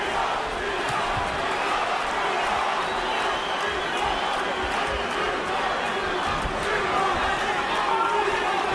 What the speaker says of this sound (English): Hee-hop chant here in Montreal